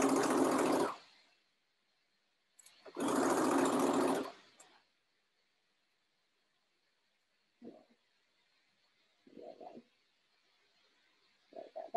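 A sewing machine stitches fabric for a lined dress in two long, fast whirring runs, close and loud, followed by a few short bursts with quiet gaps between them.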